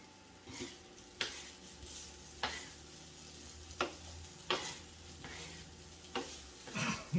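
Pork stir-frying in a pan with sesame oil and salt: a steady soft sizzle runs throughout, broken by sharp scraping stirs about once a second and a clatter at the end.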